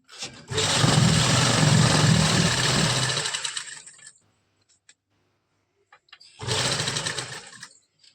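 Electric sewing machine stitching a palazzo trouser hem, a close, loud, steady whirring run of about three and a half seconds, then a pause of near silence before a second shorter burst of stitching.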